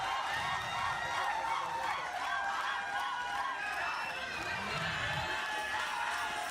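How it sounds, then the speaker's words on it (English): Crowd at a badminton match in an indoor hall cheering and shouting steadily, a dense sustained roar with excited whoops throughout. "Crowd is pumped up."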